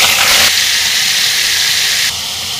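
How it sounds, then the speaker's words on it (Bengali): Shrimp dropped into hot oil crackle into a loud, close, steady sizzling hiss that briefly surges at the start and eases slightly near the end, with no voices. "তেলটা কিন্তু আমার গরম হয়ে গেছে। এর ভিতরে আমি দিয়ে দেব চিংড়ি মাছ।"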